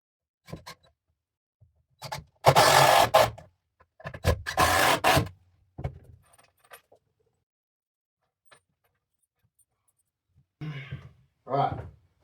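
Two screws driven into a sagging wooden barn floor, each a loud drill whir lasting about a second and a half, followed by scattered clunks, scrapes and a short voice near the end.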